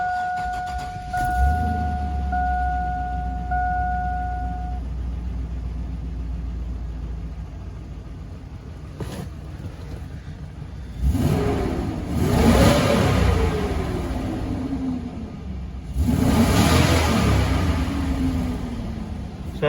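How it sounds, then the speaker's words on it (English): GM 6.0 LS V8 cranking and catching after coil pack, fuel pressure and valve cover repairs, settling into a steady rumbling idle with a short chime early on, then two strong throttle revs that rise and fall. "Let's crank her up and see how she sounds."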